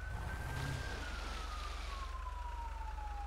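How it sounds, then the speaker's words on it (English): Police siren wailing in a video game car chase involving a 1986 K5 Blazer, a steady falling tone fairly distant over low engine rumble, no talk. "Here's sirens."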